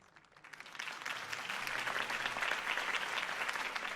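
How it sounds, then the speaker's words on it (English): A crowd in Batman: The Telltale Series breaks into applause at a campaign speech, building quickly from a few claps into sustained, dense clapping that carries on steadily, moderately distant. "could have heard that applause"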